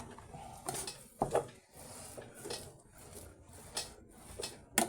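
Leftover rice being stirred and fried in a pan, with a utensil scraping and clinking against the metal in irregular taps and rubs, fairly quiet and close, no talk.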